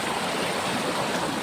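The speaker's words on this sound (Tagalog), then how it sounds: "Yan yung sapa mga kaiba." Rushing creek water pours strongly and steadily, a dense broadband wash that fills the whole short stretch with no voices over it.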